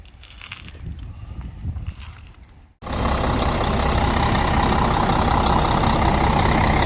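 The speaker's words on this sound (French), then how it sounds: "Voilà, le moteur est démarré" A bus being converted into a camper starts up with an abrupt burst, then its engine runs loud and steady at close range after a few seconds of quieter background sound.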